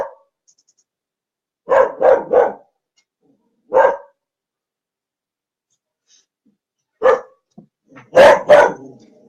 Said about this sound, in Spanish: Rachel, ya ladraste suficiente, ya, chito